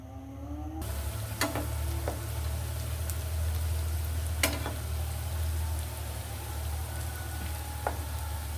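Pakon pitha, a Bengali rice cake, fries in oil in a pan. A steady close sizzle runs throughout, with a few sharp crackles and pops scattered across it.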